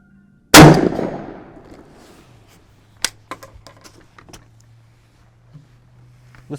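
A Mossberg 500 .410 pump shotgun fires a single 3-inch shell of 7/8 ounce number 9 shot outdoors: one loud sharp blast that rings and decays, followed by scattered faint clicks and clanks.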